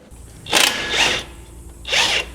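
A power tool, likely an impact wrench, runs in three short bursts while removing coilover strut bolts on a GD3 Honda Fit, loud and close with brief pauses between.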